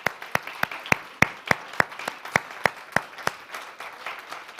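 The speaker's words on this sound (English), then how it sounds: "give them a round of applause" A church congregation clapping, heard as a thin, quiet series of sharp claps landing in a steady, evenly spaced rhythm, about a dozen in all, with a faint room murmur between them.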